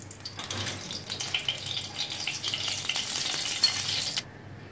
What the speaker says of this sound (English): Fry the chopped onion.